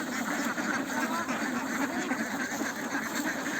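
Farm ducks quack steadily as they are fed, a dense, continuous chorus of many birds heard close by, with no one speaking.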